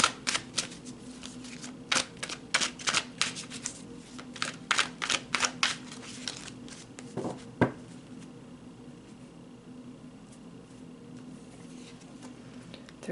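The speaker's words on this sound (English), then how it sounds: "let's pull some more cards." Tarot cards are shuffled in a rapid run of crisp, close riffling clicks, followed by a few softer snaps as cards are pulled, then near silence.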